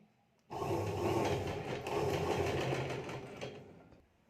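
Sewing machine stitching the lining of a blouse, a steady close whir running alone for several seconds after a quiet start.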